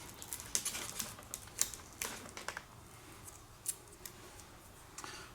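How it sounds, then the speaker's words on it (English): Tape pulled off the rudder of an FMS Futura V3 80mm EDF foam RC jet, a run of crackly ripping and ticking bursts, close and fairly quiet, with no one talking. "you're just going to pop this tape off of here."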